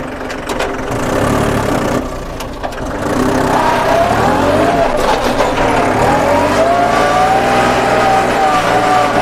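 A Kubota walking tractor engine runs steadily in fourth gear, a close, continuous mid-pitched mechanical drone whose tone rises and wavers partway through.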